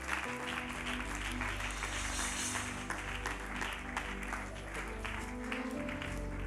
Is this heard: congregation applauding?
yes